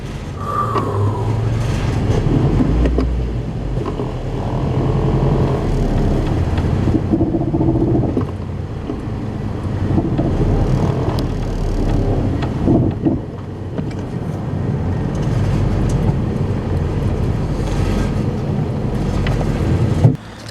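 A 1995 Nissan 240SX S14 being driven, heard from inside as a low rumbling engine and road drone with creaks, rattles and wind buffeting throughout.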